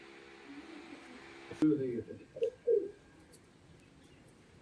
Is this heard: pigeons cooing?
yes